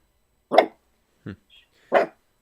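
A small puppy gives two short, sharp barks with a faint yip between them, close by and separated by silence, with no speech over them.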